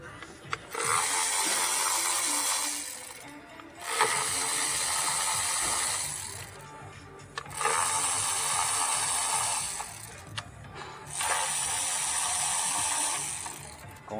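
A 10mm socket ratchet clicks steadily in repeated runs of a few seconds each while loosening bolts on a Hyundai Elantra engine cover, with short pauses between bursts, up close.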